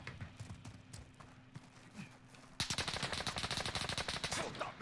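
Gunfire in the video game Call of Duty: Warzone: after a stretch of quieter scattered shots, a loud, sustained burst of rapid automatic fire takes over, dense and continuous to the end.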